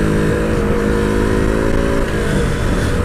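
A KTM RC motorcycle engine, recently repaired with a new gear shaft after a crash, runs loud and close in a steady, continuous roar with a dense low rumble and no talking.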